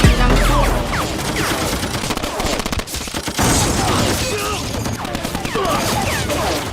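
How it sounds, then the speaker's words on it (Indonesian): Guards open fire toward a hillside in a film shootout: rapid volleys of gunshots crackle and rattle almost continuously, loud and close, with voices faintly mixed underneath. "Para penjaga pun mulai menembaki ke bukit tempat Ming bersembunyi"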